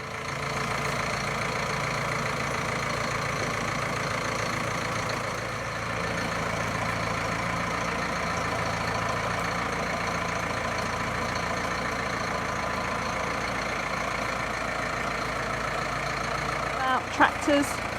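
A tractor engine idles steadily for a long stretch, a constant mid-pitched chugging drone with a few brief knocks near the end.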